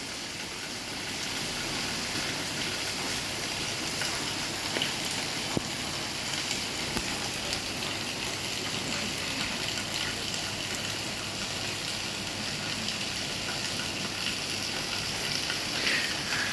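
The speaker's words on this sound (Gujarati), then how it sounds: "હજુ વરસાદ સતત ચાલુ જ છે" Dense, continuous hiss of heavy late-night rain pouring down in Rajkot, steady and unbroken throughout, with faint patters and occasional drips standing out.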